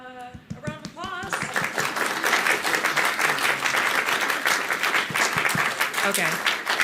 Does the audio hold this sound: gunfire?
no